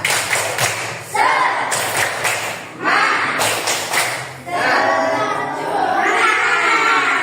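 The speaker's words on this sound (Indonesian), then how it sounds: "Tepuk semangat." Students in a classroom perform a rhythmic 'spirit clap', with three loud bursts of patterned clapping separated by short gaps, then a louder stretch of mixed clapping and children's voices.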